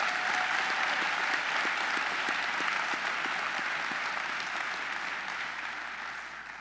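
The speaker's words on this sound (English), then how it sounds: "Please let us give Dr. David Morrow and our world-renowned Morehouse College Glee Club another round of applause." A convocation audience gives sustained applause to a college glee club, a dense, steady wash of clapping from a large crowd that slowly fades toward the end, with no talking over it.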